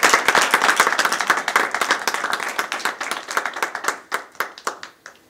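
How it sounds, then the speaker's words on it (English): An audience claps through a round of applause at the close of a livestreamed lecture on inequality. The clapping is dense and loud, then thins into scattered claps before fading. "we're going to all give you a round of applause"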